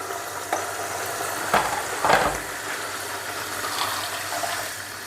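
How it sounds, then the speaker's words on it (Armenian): Boiled water poured into a pot for cooking mandak rice, a steady watery rush with a few louder splashy surges over about five seconds, fairly close and with no talking. "կլցնեմ, թող շուտ էփվի եռացրած ջուրը"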